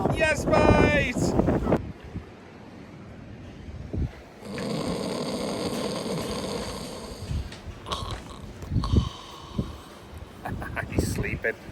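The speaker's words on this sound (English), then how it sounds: "you won't hear a thing because the wind is absolutely horrendous" Strong coastal wind buffets the microphone on the shore at Morecambe during a sea fishing trip, a loud rushing roar with gusty swells, broken by bursts of nearby talk at the start and in brief moments later.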